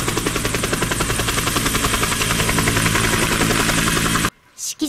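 A military helicopter arrives at a Ground Self-Defense Force garrison review ceremony in Yamaguchi, its rotor thumping loud and close in rapid, even pulses before the sound cuts off abruptly.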